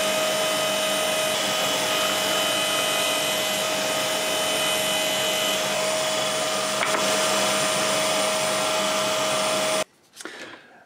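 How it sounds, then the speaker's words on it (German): A power drill with a 5 mm bit bores a row of holes while building a quick-release vise, a loud, continuous whining motor drone that holds steady for about ten seconds and then cuts off abruptly. "dann bohre ich mir mit einem 5 mm Bohrer Löcher"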